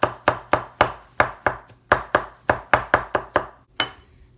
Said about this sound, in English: And then I'm just kind of gonna just mince this.